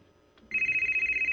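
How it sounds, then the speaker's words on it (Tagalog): A cellphone rings with a steady, high electronic trill pulsing in fast regular beats, close and fairly loud after a brief quiet moment. "Oh, ang akong cellphone."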